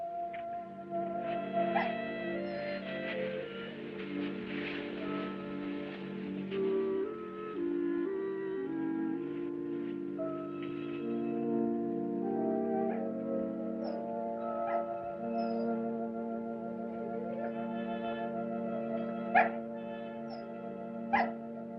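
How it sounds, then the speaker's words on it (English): A dog named Red whimpers and whines in a drawn-out, melodic way, with occasional short yips and barks, fairly close, over a soft musical background in a 1946 film noir scene. "Red's my dog."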